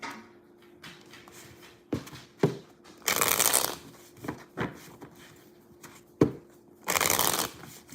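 A tarot deck is shuffled and cut by hand, close and crisp, with several loud riffling bursts and softer card taps in between.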